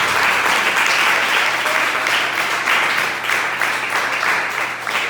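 A church congregation applauding after a sermon, steady, full applause filling the room for several seconds without talk.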